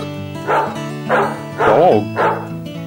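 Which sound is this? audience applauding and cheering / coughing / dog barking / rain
dog barking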